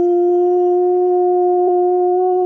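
A single sustained wolf-like howl holds a steady, tonal pitch, loud and close throughout with a slight waver near the end, and no talking over it.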